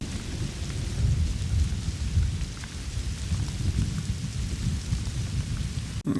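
Heavy steady rain with deep rolling thunder rumbling underneath in a Better Call Saul episode, loud and continuous before a sudden cut at the end.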